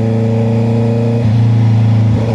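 Honda CB650R motorcycle with an aftermarket exhaust revving loudly and close, a steady throaty drone that shifts pitch upward partway through, held continuously with no talking.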